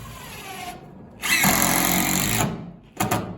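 A power drill drives 3-inch screws with a T25 Torx bit into interior wall framing, making a short whir, then a louder sustained grinding run of about a second, then a brief final burst.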